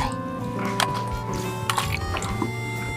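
Shrimp being washed in water by hand, close splashing, dripping and squishing sounds with small sloshes and no talking.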